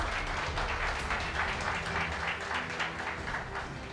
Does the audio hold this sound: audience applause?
yes